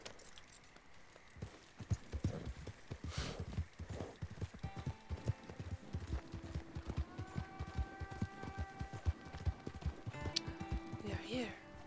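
Rapid, rhythmic hoofbeats of a galloping horse in Red Dead Redemption 2, steady and close, layered with game music tones and occasional speech.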